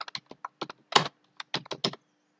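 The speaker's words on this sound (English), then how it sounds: "Here you need to type control panel." Laptop keyboard keys tapped in a quick irregular burst of about a dozen close, crisp clicks, some in rapid clusters, alone with no talk.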